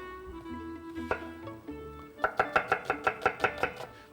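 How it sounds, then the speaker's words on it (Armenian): A knife slices onion thinly on a cutting board, about ten quick, evenly spaced chops that start after a couple of seconds of low background hum. The chopping is close and crisp. "Սոխը պիտի կտրատենք բարակ, բայց մի քիչ երկար։"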